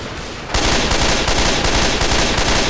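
Rapid automatic gunfire in Left 4 Dead, a loud, continuous burst of closely spaced shots starting after a brief lull and running to the end.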